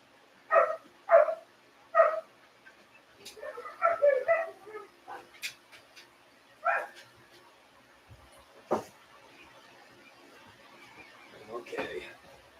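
Several dogs bark in short bursts on a rainy day as they are called inside, with a few yips and whimpers mixed in, and a person talks between the barks.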